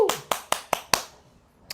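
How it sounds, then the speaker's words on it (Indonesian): Applause from a church congregation during a worship service: five sharp, loud clap bursts in quick succession at close range, then decaying quiet. "Boleh dong sekali lagi berikan tepuk tangan buat Tuhan kita."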